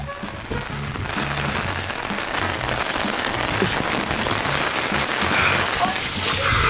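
Steady heavy storm rain pattering on surfaces at a building site, a dense continuous hiss close by, with faint Portuguese voices and movement mixed in underneath.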